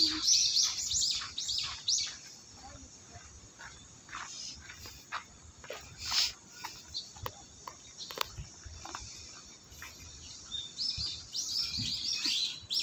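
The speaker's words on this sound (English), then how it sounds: "What kind of bird there is here?" Small birds chirp in quick, high, scattered tweets, some near and some farther off, over a soft outdoor hum with faint insect-like buzzing.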